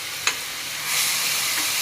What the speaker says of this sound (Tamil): நல்லா வதக்கிக்கோங்க. கோல்டன் ப்ரௌன் ஆகிற வரைக்கும் வதக்கிக்கோங்க.